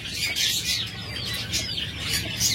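Caged lovebirds give off bright, high chirps and tweets in repeated bursts, close and fairly loud, with no talking.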